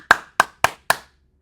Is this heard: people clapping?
yes